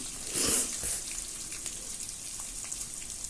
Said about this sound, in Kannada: ಇವೆಲ್ಲ ಒಂದು ಸ್ವಲ್ಪ ಫ್ರೈ ಮಾಡ್ಕೋಬೇಕು ಫ್ರೈ ಆಗಿದೆ ಈಗ ನಾನು ಈರುಳ್ಳಿ ಸೇರಿಸ್ಕೊತಾ ಇದ್ದೀನಿ